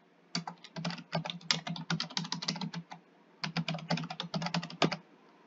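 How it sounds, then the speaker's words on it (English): Close, brisk typing on a computer keyboard in two quick bursts separated by a short pause, with no voices. "There is something sometimes therapeutic to just stupidly typing things."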